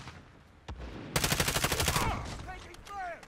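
Bursts of automatic gunfire crackle in a Call of Duty: Modern Warfare match, opening with a single sharp shot, then a rapid rattling volley, with fainter game sounds trailing after.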